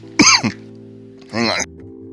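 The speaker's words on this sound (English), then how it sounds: "It's making me cough my face off." A person coughs in two hoarse bursts after taking a hot hit while smoking, the first short and sharp, the second longer and rougher, close and loud over a steady background hum.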